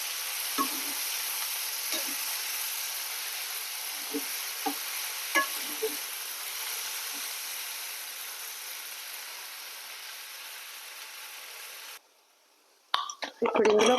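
Boiled, cut broad beans (chikkudu) drop into a hot pan and sizzle steadily, with a few stirring clanks of a spoon against the pan; the frying hiss runs for about twelve seconds, then cuts off and gives way to sharper handling clatter.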